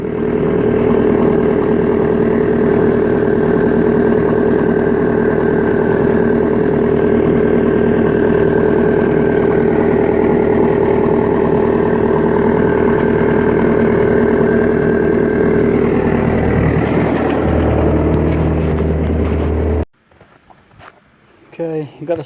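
A skid steer's engine idles steadily, a loud, even diesel drone that runs unbroken for most of the clip before cutting off abruptly near the end, followed by faint handling noises.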